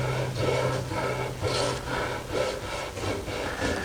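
A hand rubs back and forth across the rough, unsanded wood of a small oak kid's rocking chair, giving close, dry scraping strokes in a regular rhythm, about six passes, with no talking.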